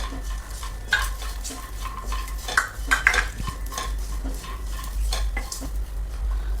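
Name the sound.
peanuts being stirred and roasted in oil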